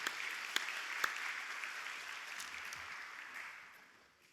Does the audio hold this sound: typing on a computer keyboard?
no